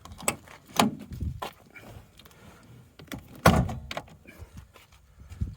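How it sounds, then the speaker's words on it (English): Several sharp metallic clunks and thuds, with one heavy knock standing out, as a latch is released and the bonnet of a Bedford Bambi van is lifted, no talking. "Okay, right, let's pop the bonnet."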